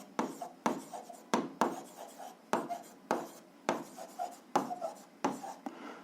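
Pen writing out an algebra exercise solution on paper, a run of scratchy strokes in separate bursts of about half a second each, close and clear with no talk.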